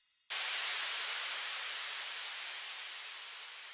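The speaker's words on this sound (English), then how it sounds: "this white noise down" In a music track, a white noise down effect starts with a sudden loud hiss that slowly fades and thins over several seconds.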